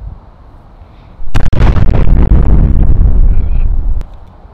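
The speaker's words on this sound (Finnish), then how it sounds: "Kaboom!" A loud explosion sound effect, edited into footage of a golf swing at an invitational event, bursts in with a sharp onset and then a sustained roar of rumbling debris lasting close to three seconds before it cuts off abruptly.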